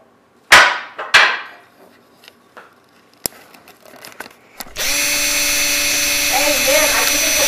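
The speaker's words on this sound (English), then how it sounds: "Boy, just use a drill!" After a few sharp knocks and clatters, a power drill starts up and whines loudly and steadily, close by, its pitch wavering slightly.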